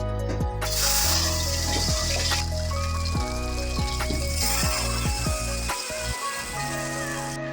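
Battered cabbage leaves stuffed with fried potato frying in hot oil in a wok, a steady close hiss and sizzle with occasional clicks and pops throughout.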